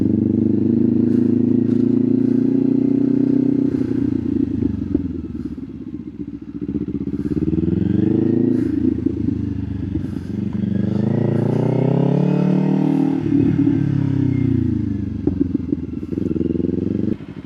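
A 2025 Kawasaki Ninja 500SE cruising on the road, its loud steady engine drone rising and falling with throttle changes and shifts, heard close from the rider's position with wind rumble.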